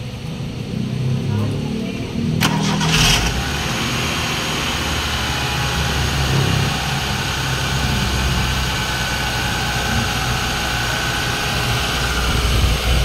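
A Mitsubishi Lancer with a 4G92 engine that misfires and blows black smoke cranks and catches at close range, then settles into a loud, steady running drone. Voices can be heard in the background.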